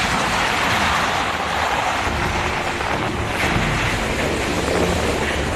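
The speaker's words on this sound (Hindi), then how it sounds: "इतनी तेज हवाएं हैं कि मेरा खड़ा रहना इस वक्त इस जगह पर मुश्किल लग रहा है।" Strong cyclone winds from Cyclone Nisarga buffet the coast with a constant loud roaring rush and heavy microphone wind noise, unbroken and without speech.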